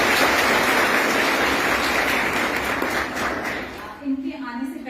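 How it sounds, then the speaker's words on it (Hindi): Loud, sustained applause from a school audience greeting the chief guest, a dense wash of clapping that fades out near the end as a voice begins. "एक बार जोरदार तालियां।"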